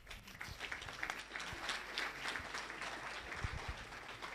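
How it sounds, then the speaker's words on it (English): A crowd at a youth entrepreneurship event in Ghana applauds steadily, a dense wash of many hands clapping at moderate distance with faint voices underneath. "A round of applause for them."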